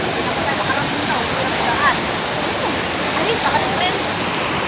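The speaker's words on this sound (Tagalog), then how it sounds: "masyado pong malakas yung agos ng tubig" A waterfall's strong current thunders as a dense, continuous rush of water, loud and close, with a steady hiss and gurgle throughout.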